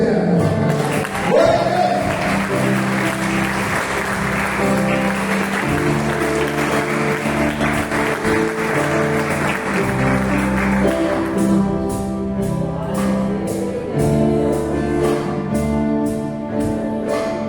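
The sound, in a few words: church congregation applauding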